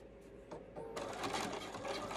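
Sewing machine stitching binding onto a fabric face mask, a busy mechanical whir that picks up and runs steadily near the mic, with brief starts before settling into continuous stitching.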